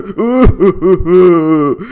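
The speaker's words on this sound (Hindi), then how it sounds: "ये बाहर से इतने रोने की आवाज़ किसकी आ रही है यार" Crying and wailing in GTA 5, a loud, close voice gasping and moaning in a run of drawn-out, quavering wails with short breaks between them.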